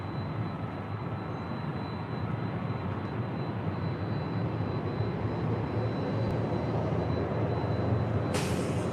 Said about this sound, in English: It's followed by Delta Airlines Flight 1530, coming in from Seattle, Washington on a 737-900ER.